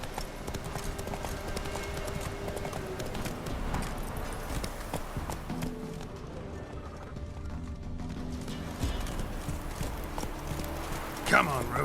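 Geralt's horse Roach gallops in The Witcher 3 on Fyke Isle, a dense continuous rumble of hooves with ambient game sound under speech-like voices, a brief louder hit near the end.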